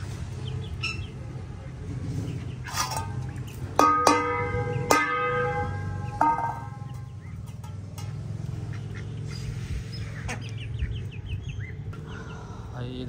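Ducks feeding on watermelon with chickens nearby, a steady wet chatter of quacks and pecking under outdoor background noise, with occasional sharp clinks and bell-like tones in the middle.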